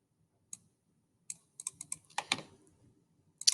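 Computer keyboard typing in short irregular bursts of crisp clicks, a few isolated taps followed by a quicker cluster, close and clear with no talking.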